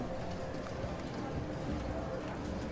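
A horse-drawn carriage in an online action video game gives a steady clip-clop of hooves under a constant, busy game background.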